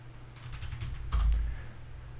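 Keys clatter on a computer keyboard in a short, steady burst of typing, close and moderately loud, with one heavier thump of a key press near the middle and no voices.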